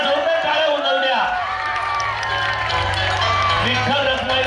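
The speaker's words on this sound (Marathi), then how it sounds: "त्याला जोरदार टाळ्या उंचावू द्या." Outdoor crowd cheering, whooping and clapping for a Govinda human pyramid of young children in Atali Koliwada, a loud, busy burst of voices and applause that carries on throughout, with shouting over the top.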